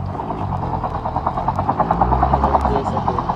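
Helicopter in a video game, a continuous loud rotor chop and buzzing whine that swells slightly over a few seconds, with players talking over it.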